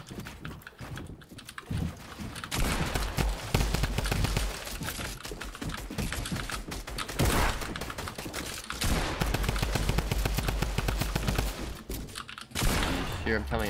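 Rapid bursts of video game gunfire crackle almost nonstop, with dense volleys and a few sharper cracks layered over game noise and occasional talk.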